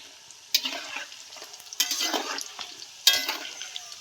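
Nimki frying in hot oil, quiet bubbling interrupted by three louder bursts of sizzling and stirring scrapes, close by with no talking.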